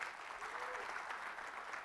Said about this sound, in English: please give a big round of applause to Naresh